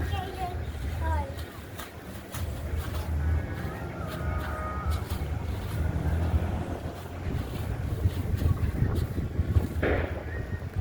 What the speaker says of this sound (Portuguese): O vento tá forte pra caraca